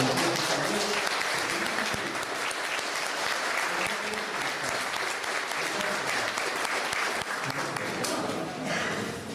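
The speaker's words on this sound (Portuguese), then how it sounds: "Eu peço assim uma salva de palmas para vocês." An audience of public servants applauds after a president's speech of thanks, sustained, full clapping that fills the room from start to finish, with some voices mixed in underneath.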